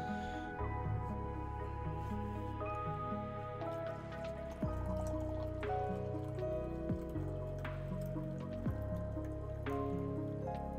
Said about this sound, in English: Let's pour myself some tea